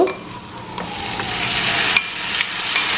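Chopped tomato hits a hot oiled pan for prawn biryani and is stirred in, giving a steady close sizzle with scraping spoon strokes throughout and no talking.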